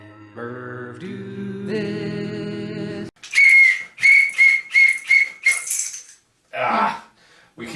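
At a Super Bowl party, a whistle first gives a few long, steady tones that step up in pitch. Then come a series of short, sharp, loud blasts in quick succession, followed by quieter trailing noises.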